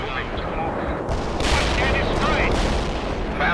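Artillery barrage in World in Conflict: a rapid, dense run of booms and crackling gunfire that swells after the first second and keeps up without pause, with some voice chatter faintly beneath.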